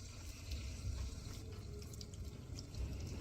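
Boiled mustard greens squeezed by hand for sarson ka saag, giving a soft, continuous trickle and splash of water draining out, faint and close with no talking.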